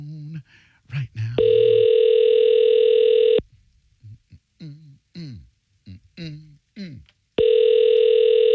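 A telephone rings unanswered in a broadcast studio: two long, steady electronic ring tones a few seconds apart, loud and close, with someone speaking briefly in the gap between them.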